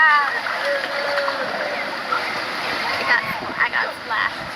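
Water splashes and churns in a lazy river at a Hawaii resort, a continuous watery wash with a few brighter splashes, fairly loud and close, with voices faintly mixed in.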